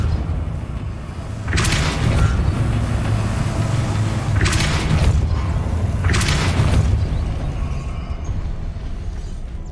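Three forceful magical push bursts from the Depulso spell in Hogwarts Legacy, each a loud whooshing blast spaced a few seconds apart over a steady low ambient rumble.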